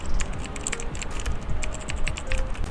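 Rapid clicking of keys on a computer keyboard while an email address is typed, a steady run of close, crisp taps with no voices.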